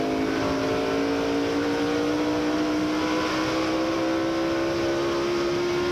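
Jeremy Mayfield's NASCAR race car engine, running at the 2002 Subway 400, holds a loud, steady high-pitched drone near 9,000 RPM that climbs slowly in pitch throughout, with no voices over it.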